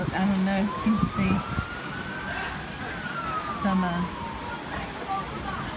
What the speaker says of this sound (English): I'm hearing an ambulance.